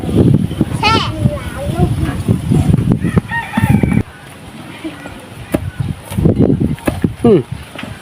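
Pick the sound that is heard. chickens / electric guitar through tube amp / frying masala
chickens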